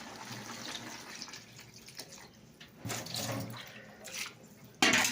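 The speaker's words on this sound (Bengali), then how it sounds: "এবার আমি একটু জল দিয়ে দিচ্ছি" Water poured into a cooking pot in a home kitchen, a soft steady trickling and splashing that swells midway and ends with a louder splash, fairly faint and close.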